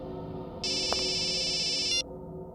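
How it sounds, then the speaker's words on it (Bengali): A mobile phone ringtone plays one steady, bright electronic burst of about one and a half seconds. It sounds close and loud over a quiet room hum, then cuts off abruptly. "বস, আপনার ফোন।"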